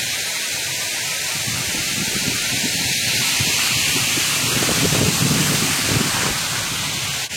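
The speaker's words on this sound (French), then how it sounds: "Il y a déjà du vent," Wind gusts at Grand Bassin on Réunion under an overcast morning sky, a steady broadband rush with surging gusts lasting throughout and buffeting the microphone, no voices.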